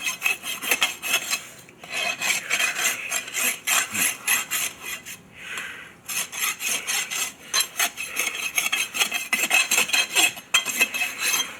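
A farrier's rasp files the squared-off nail ends on a horse's hoof, steady rhythmic back-and-forth scraping strokes, close and fairly loud, with brief pauses between bursts.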